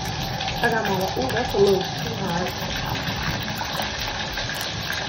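Tap water running steadily into a bathtub, a constant rushing gush heard close up while someone talks over it.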